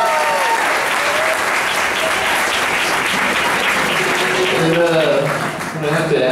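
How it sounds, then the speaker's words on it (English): Audience applause at a live hillbilly band show at Knott's Berry Farm, a steady dense wash of clapping that fills the whole stretch, with a voice faintly over it near the end. "we'd like to thank you and Knott's Berry Farm for a big round of applause"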